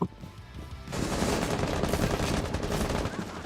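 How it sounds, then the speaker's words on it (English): A burst of rapid gunfire erupts after a moment of quieter noise and continues as a dense, crackling volley. "I heard the gunshots."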